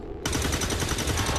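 A burst of gunfire in XCOM 2: War of the Chosen starts abruptly after a brief quiet moment and rolls on as a dense, loud, continuous rattle, with no voices heard.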